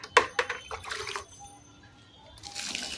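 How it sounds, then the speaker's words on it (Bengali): Water is poured a little at a time onto rooftop garden plants, including Malabar spinach, making close splashes and short trickles with brief pauses between them. "গাছগুলোতে অল্প অল্প করে জল দিয়ে দিই।"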